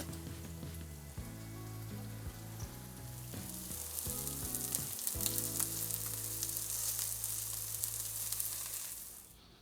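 Salmon patties sizzle and crackle in a frying pan, the spitting growing louder and denser over several seconds while low background music plays.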